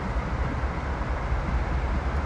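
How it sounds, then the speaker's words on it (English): A CSX heavy haul freight train in Train Sim World rumbles steadily and loudly, a dense low mechanical roar with continuous wheel and engine noise and no distinct breaks. "This one's a bit of a noisy train."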